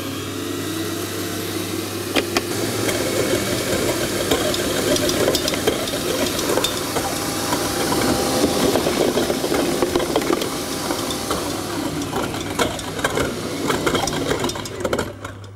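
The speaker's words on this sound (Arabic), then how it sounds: "هنضربهم لحد الملمس ما يبقى ملمس كريمي" Electric mixer beating butter and sugar until creamy for a hazelnut sponge cake, a steady close whirring motor hum with faint rattling of the beaters against the bowl throughout.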